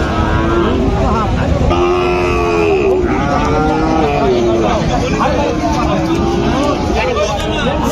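A calf moos repeatedly in drawn-out calls amid a noisy calf market crowd, with people talking and engine rumble in the background.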